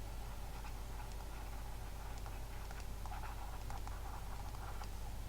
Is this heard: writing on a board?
yes